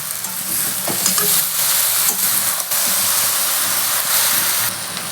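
Diced tomatoes frying in a pan for a vegetarian cabbage curry, a loud continuous sizzle and hiss with scraping stirring strokes throughout, and no voices.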